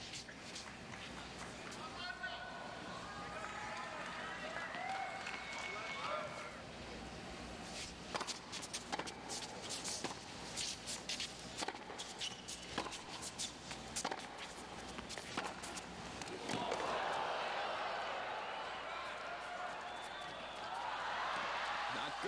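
Crowd at a tennis match between Ivan Lendl and Andre Agassi cheers and applauds after a break-point rally, a broad wash of claps and shouts swelling in the last seconds, with commentators talking over the noise throughout.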